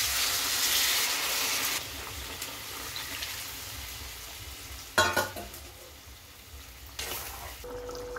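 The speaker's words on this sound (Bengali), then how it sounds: "এবার আমি একটু গরম জল দিয়ে দিলাম" Hot water poured into a pan of frying green jackfruit and prawn masala, a steady sizzle that drops back, then a sharp hiss and bubbling burst, with faint clatter of stirring nearby.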